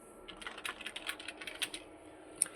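Typing on a computer keyboard plugged into a desktop PC's USB port at a computer repair shop, a quick, irregular run of soft key clicks at close range, with a single sharper tap near the end.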